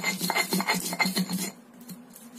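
Spices and salt being ground with a stone mortar and pestle (ulekan), a dense run of close scraping, rubbing strokes for about a second and a half, then quieter.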